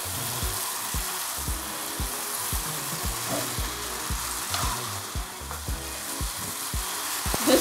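Pre-cooked pasta with soy sauce sizzles in a pan over high heat, a steady frying hiss broken by regular scraping knocks from stirring, close and with no talk.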